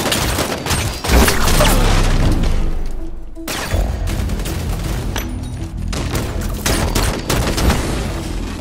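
Dense bursts of automatic gunfire fill a Halo 5 multiplayer firefight, loud and close, with rapid volleys and heavy booms broken by a brief lull before the shooting resumes.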